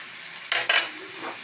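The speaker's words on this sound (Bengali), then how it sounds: "পেঁয়াজটা ভাজা হয়ে গেছে" Onions fry in a pan with turmeric and salt, giving a steady low sizzle broken by two quick, close scraping stirs of a spatula against the pan.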